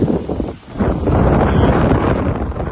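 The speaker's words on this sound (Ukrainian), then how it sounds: "дуже сильний вітер" Strong wind buffets the microphone in loud, rumbling gusts, briefly easing before roaring again.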